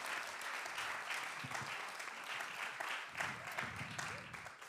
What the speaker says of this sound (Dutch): een heel hartelijk applaus voor de mama van Jente